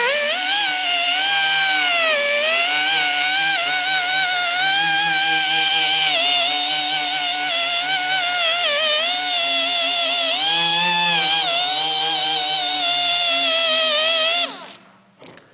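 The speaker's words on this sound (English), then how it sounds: "My 90-degree angle grinder here. I've got a Scotch-Brite attachment on this" A 90-degree angle grinder fitted with a Scotch-Brite pad works over the body of a 1968 Camaro, a loud steady high-pitched whine that wavers in pitch under load for a long stretch before winding down.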